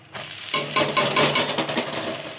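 Chopped onions frying over a high flame for a boiled-egg masala curry, a steady close sizzle with occasional stirring scrapes, running loud and continuous after a brief quiet start.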